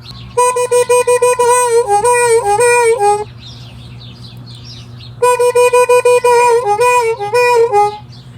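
A harmonica in E plays a tune in two bright, reedy phrases of short, repeated draw notes separated by a brief pause, loud and close.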